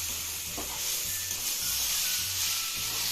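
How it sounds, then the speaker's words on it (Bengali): Ridge gourd and tomato stir-fried for moong dal, a steady close sizzle of frying with rhythmic scraping and stirring strokes of a spatula against the pan. "একটু নাড়াচাড়া করে ভেজে নেব"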